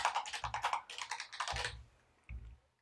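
Computer keyboard typing while editing code: rapid bursts of close, crisp key clicks, then a pause and two heavier isolated keystrokes, with no talking.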